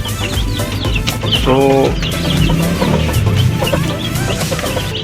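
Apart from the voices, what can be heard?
mother hen clucking in brooding coop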